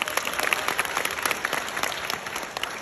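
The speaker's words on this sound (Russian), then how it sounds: "Аплодисменты Рамзии Бурдиной" Steady applause from an audience at a network-marketing event in Moscow, with dense, even clapping that fills the short stretch without pause.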